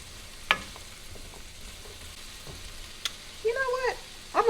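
Radishes sauté in a pan with a steady, quiet sizzle, while a few clinks and scrapes of stirring come through and a person speaks briefly toward the end.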